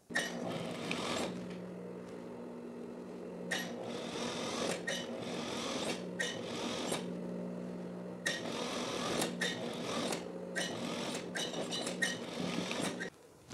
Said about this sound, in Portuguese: fazer uma costura por cima dos pontos do overlock a fim de fixar essa parte da frente na jaqueta